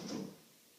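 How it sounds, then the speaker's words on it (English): A cabinet drawer on soft-close stops slides shut with a brief, muted push that eases into silence and no bang. "this cabinetry has the same type stops for the drawers."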